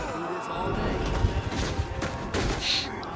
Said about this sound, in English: this shotgun, you would think the shotgun would be devastating, right?